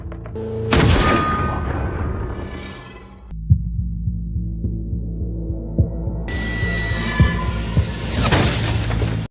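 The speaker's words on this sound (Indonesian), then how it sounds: "Untungnya tembakan dari sniper itu tadi hanya mengenai sebuah foto keluarga yang ada di rumah itu." A sniper rifle shot in a film strikes a framed family photo in a house: a sharp crack and shattering burst, then a tense low throbbing score with faint thumps, ending in another loud swell.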